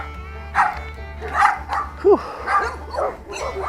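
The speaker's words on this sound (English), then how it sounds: "Getting attacked by dogs." Several dogs bark and yip at close range around a free jet ski trailer being strapped for towing, loud bursts with a whimpering whine among them over a low engine hum, and a person exhales briefly.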